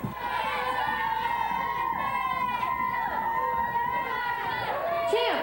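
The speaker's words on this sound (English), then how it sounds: "The crowd is going wild." A crowd in a comedy show sets celebrating a bad yo-yo trick cheers and shouts over a dense wash of excited voices, loud and sustained with a sharp swell at the end.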